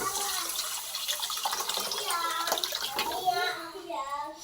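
Tamarind water poured into a pan while making rasam, a steady splashing pour heard close up throughout, with a voice speaking over it.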